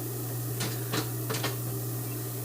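A serger sewing machine with its blade up stitches and trims fabric, running at a steady low hum with a few quick mechanical bursts, faint and alone.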